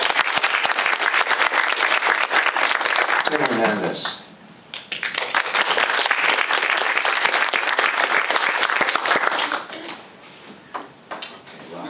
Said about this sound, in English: So round of applause for Joel Raphael.